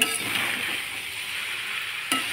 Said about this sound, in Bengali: দেখো নাড়ছি, ভালো করে নাড়িয়ে নেবো।